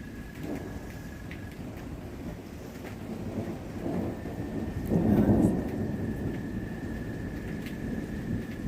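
Deep rolling thunder from a severe thunderstorm in Middle Tennessee swells and rumbles near the middle, over a constant wash of falling rain and a faint steady tone in the background.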